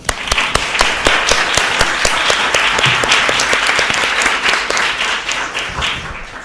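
Loud, sustained audience applause closing a medical lecture on adrenal Cushing's syndrome, dense clapping with distinct sharp claps standing out, steady throughout with no talking over it.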